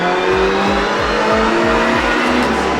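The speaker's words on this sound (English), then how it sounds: "But that brakes like a real race car." A race car brakes hard on the Daytona track, its tires squealing loudly over a steady engine roar with a rapid pulsing low rumble, close and continuous throughout.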